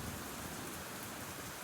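Steady rain falls as a dense, even hiss with no break or variation, soft and continuous throughout.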